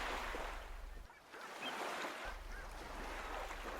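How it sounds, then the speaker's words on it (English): Wind gusts and waves slosh around a boat at night on the water, a continuous rushing hiss that dips briefly then swells again, fairly soft with no speech. "The wind swooshed. The waves sloshed."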